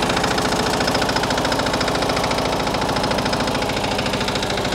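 A new tractor's engine runs steadily with its hydraulic lift fully raised, a loud, close, rhythmic diesel chug with even rapid firing pulses throughout and no voices.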